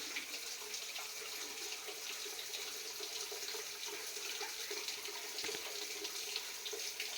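Steady rushing water pours continuously, a broad even hiss of a waterfall with no pauses, heard alone at moderate volume.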